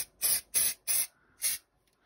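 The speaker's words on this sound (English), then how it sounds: "we could spray a wee bit more if we went a bit more" Turtle Wax polish is sprayed onto a PS4 console in four short, close hisses, three in quick succession and a fourth after a brief pause.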